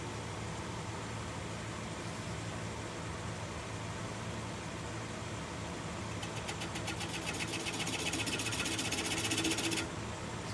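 A wood lathe turns steadily while a bowl gouge works a bowl's inner edge, giving a continuous whirring hum; a rapid chattering buzz from the cut joins in partway through and then stops.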